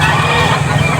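A chicken clucks close by in a short burst at an outdoor pet market, with steady background noise around it.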